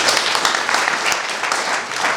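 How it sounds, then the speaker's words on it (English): Audience applause at a high school mentorship talk in Kenya, a steady wash of many hands clapping together, fairly loud and continuous with no talk over it. "Clap for me."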